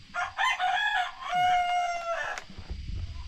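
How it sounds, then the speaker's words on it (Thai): A single rooster crows close by in a remote village surrounded by lush forest. The drawn-out cock-a-doodle-doo is loud and clear with no talking, and it ends after about two and a half seconds. "คักมีไก่ขันเลย ๆ"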